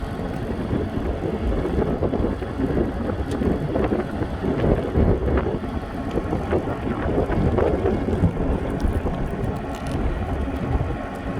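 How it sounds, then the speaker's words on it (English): Wind rumbles against the microphone in a continuous, uneven low roar with gusty swells, no talking. "It's windy, I'm sorry"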